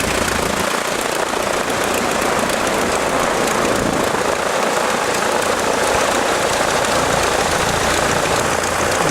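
A 1912 Taube F aircraft engine runs steadily and loudly up close, a dense continuous roar with no pauses and no voices.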